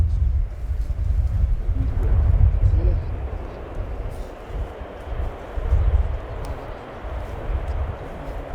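An Airbus A400M Atlas military transport aircraft flying a display at an air show, heard as a broad, rumbling engine drone that swells and fades at a distance, with wind noise and crowd or commentary murmur.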